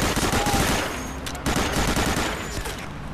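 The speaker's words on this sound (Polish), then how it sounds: "No i skąd mnie strzela?" Rapid automatic gunfire from the video game Medal of Honor: Allied Assault rattles in loud, sustained bursts, overlapping shots filling the short stretch.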